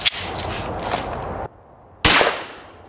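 A PSA Dagger pistol fires a couple of sharp, loud shots outdoors, each a hard crack with a short echoing tail, separated by a brief pause.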